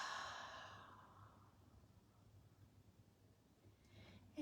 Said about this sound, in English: One more time, inhale through the nose and exhale through the mouth.